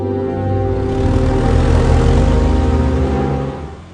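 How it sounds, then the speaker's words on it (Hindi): A cartoon truck engine runs steadily at a low rumbling idle, loud and close, holding a constant drone for several seconds before easing off at the end, with no voices. "सोन देखने की कोशिश करता है कि आखिर ट्रक चला कौन रहा है"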